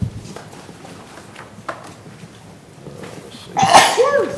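Near the end of a quiet council meeting room, someone gives a single sharp sneeze after faint murmurs and shuffling.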